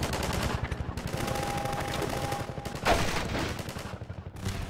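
Rapid automatic gunfire in the game Half-Life 2: Episode Two, sustained bursts of shots with a sharper loud report near the middle, fairly faint overall.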